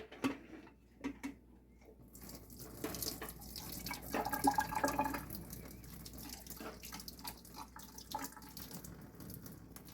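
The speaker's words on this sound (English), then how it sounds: "So now that it's all cooked, we need to drain up that water." Pasta water pours steadily into a sink as it is drained, splashing and gurgling for several seconds, with a few soft clanks of a pot near the start.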